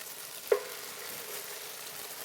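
BBQ chicken with olives and onions sizzles and fries in a skillet, a quiet steady crackle with one brief clink near the start.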